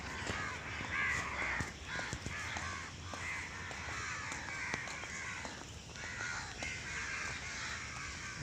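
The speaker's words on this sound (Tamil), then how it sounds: "இதில் பறவைகள் சத்தம் மட்டும்தான் வந்து கேட்குது" Crows caw repeatedly against a busy dawn chorus of smaller birds in early-morning darkness, calls overlapping at a steady, moderate distance with no talking.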